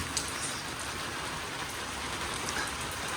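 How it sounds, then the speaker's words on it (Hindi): Steady rain falls outdoors in a Pakistani village after a night of thunder, a continuous even hiss of drops on surfaces with no voices. "और बारिश भी इसी तरह माशाल्लाह से चलती रही है, कभी हल्की कभी तेज़।"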